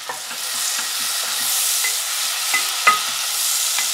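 Chopped red onion fries in melted butter for a butternut squash soup, hissing in a continuous bright sizzle while a spoon clicks and scrapes the pan at irregular moments, one knock standing out near the end.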